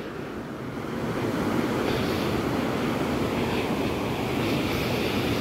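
A swollen river, the Río Tlapaneco in Mexico after Hurricane John, roars as a steady, loud, broadband rush of water heard from a bridge, with wind buffeting the microphone and no talking.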